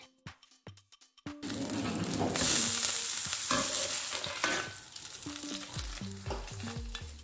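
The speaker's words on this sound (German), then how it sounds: "Jetzt braten wir es einmal." Burger patty frying in coconut fat in a pan: after a few quiet clicks, a loud steady sizzle bursts up and holds, with some scraping or shifting sounds toward the end.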